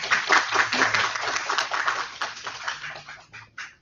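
An audience claps for a speaker at a translation event, a dense burst of applause that thins out and fades over a few seconds.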